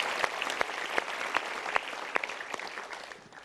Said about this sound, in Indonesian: kita berikan tepuk tangan lagi untuk Pak Sony